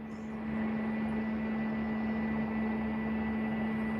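Alaska Airlines jets preparing to depart at Burbank airport during the morning rush, heard as a steady, loud jet engine roar with a strong constant hum that swells early and then holds without letup.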